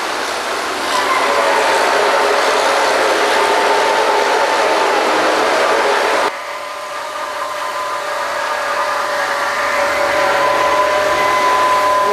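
A steady, loud mechanical roar of a kelly drilling rig keeps running, with a whining tone on top and a sudden shift in pitch and loudness midway.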